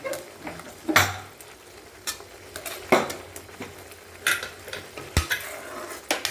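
Carrot halwa with sugar being stirred and fried in a pan, with sharp intermittent clinks of a spoon against the metal and a soft sizzle underneath, fairly close and no talking.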